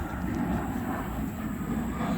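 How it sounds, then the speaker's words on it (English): A jet aircraft roars overhead in a steady, broad rumble, moderately loud and continuous, with no talk. "after the jet passes"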